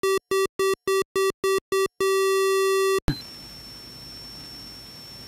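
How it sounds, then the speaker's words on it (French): A computer's synthetic square-wave beeper, programmed in BASIC, plays a sequence of short, evenly spaced beeps, then one long sustained tone that cuts off abruptly, followed by faint hiss. "Voici par exemple une musique avec un certain rythme."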